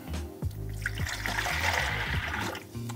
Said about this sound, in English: I'm just going to pour the water in there.